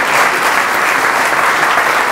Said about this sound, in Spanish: Pido a todos ustedes un fuerte aplauso para el inicio de esta iniciativa